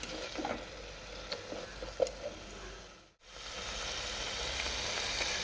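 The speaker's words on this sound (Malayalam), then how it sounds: "അഗെയിൻ നന്നായിട്ട് സോട്ട് ചെയ്യുക" Chicken and tomato sautéing in a pan, a steady close sizzle with light crackles and stirring taps, briefly cut off midway before the frying resumes.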